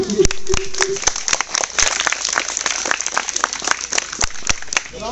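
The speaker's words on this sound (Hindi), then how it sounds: "हमारे पूरे गांव की ओर से एक बार जोरदार ताली से हमारे मुख्य अतिथि" Clapping from a village crowd welcoming the chief guest, an MLA, at a rural cricket final event, a dense, steady spread of claps throughout with a brief voice near the start.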